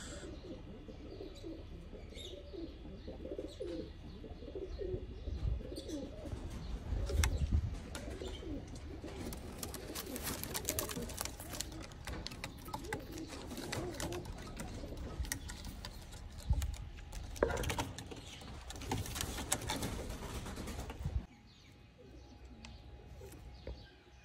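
Pigeons in a loft coo softly over a steady low background, with scattered clicks, flutters and a few sharper knocks throughout before the sound drops away near the end.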